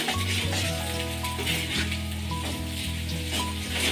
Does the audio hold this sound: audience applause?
no